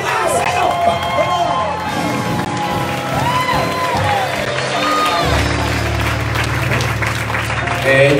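Loud applause and shouting from a church crowd at a worship service in Texas, a dense, continuous roar of clapping and cheers with voices mixed in throughout.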